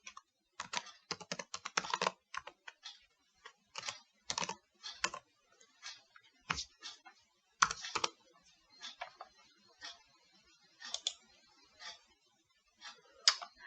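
Typing on a computer keyboard while coding, close and clear, with quick bursts of key clicks separated by short pauses and no talking.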